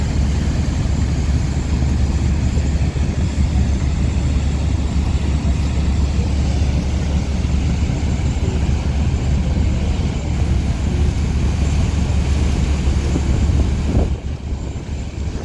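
Engines of the Bangladeshi passenger launch MV Manami, racing the Surovi 8 before dawn, roar as a steady, loud, broadband drone with heavy low rumble and wind noise, continuous throughout before dropping slightly near the end.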